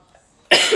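A single sharp cough from a woman bursts out abruptly after a brief quiet moment, loud and close.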